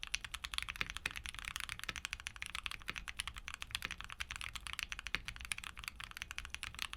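Gateron LongJing light tactile keyboard switches clacking under fast continuous typing, a dense rapid patter of crisp keystrokes with occasional deeper bottom-out thuds, close and fairly quiet.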